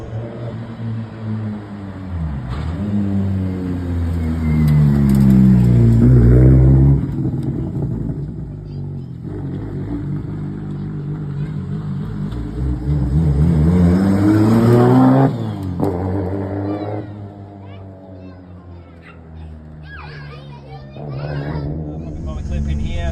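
A Nissan Silvia engine rumbling at idle, rising and falling through several revs up and back down, close by, with a few voices faintly in the background.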